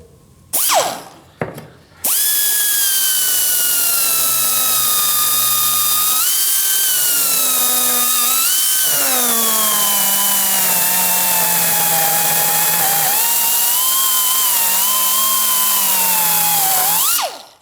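A pneumatic air angle grinder whines at full throttle while grinding a piece of wood, a loud sustained high-pitched drone that shifts slightly in pitch under load, preceded by short bursts of air.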